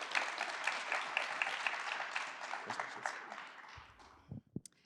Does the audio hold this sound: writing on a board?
no